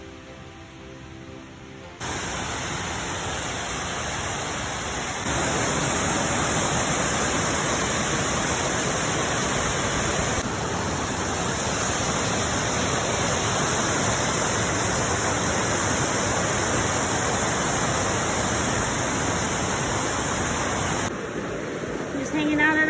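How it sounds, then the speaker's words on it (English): Waterfall on the Collins Gulf trail, a dense, steady roar of falling water that fills the whole scene continuously, close and loud. "Just hanging out at a waterfall."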